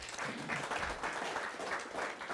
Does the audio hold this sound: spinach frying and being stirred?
no